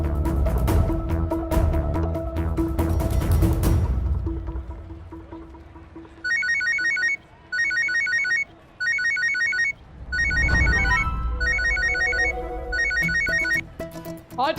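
A phone rings with repeated electronic ringtone bursts in a regular on-off pattern, following a louder stretch of mixed room noise with no talk.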